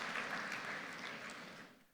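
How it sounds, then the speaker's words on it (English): A university convocation audience claps for the 9th convocation ceremony, a dense, fairly faint round of applause that fades out toward the end. "A huge round of applause for their constant support and encouragement in all activities of the university."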